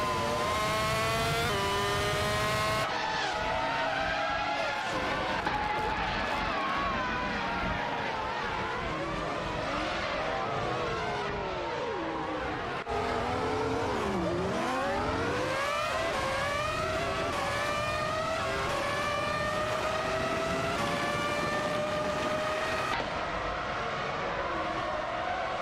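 Race cars in a video game career-mode race roar past in a tight pack, engines whining and shifting pitch as they sweep through gears and a passing swoop, loud and continuous.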